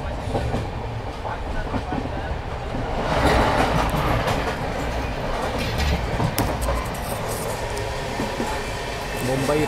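Saurashtra Mail passenger train at busy Vapi junction, a steady loud rumble of rolling carriages with rhythmic wheel clatter and metallic squeal, with a voice talking throughout.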